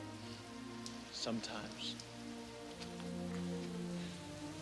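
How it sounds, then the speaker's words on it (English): Steady rain pours in a film scene from The Crow, a dense continuous hiss under low background music, with a brief spoken word partway through. "I wish the rain would stop just once."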